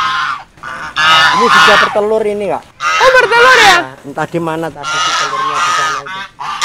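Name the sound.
geese honking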